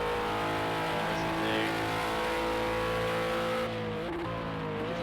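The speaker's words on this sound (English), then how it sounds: "Different roars from the different cars." GT3 race car engines drone steadily in a Project CARS 2 race at Monza, a loud continuous roar with rising and falling pitch as cars accelerate, heard alone throughout.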